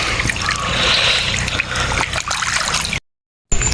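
Cold water flows and trickles in a forest stream, a close, continuous splashing babble that cuts out briefly before resuming.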